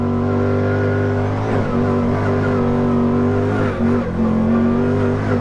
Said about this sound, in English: This engine is crazy powerful. It's carrying us up these hills, over these jumps, with no problems whatsoever.